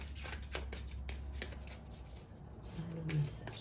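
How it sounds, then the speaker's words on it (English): Tarot cards are shuffled by hand in a run of quick, crisp riffling and flicking bursts close up, with faint background hum. "Really should shuffle these this way."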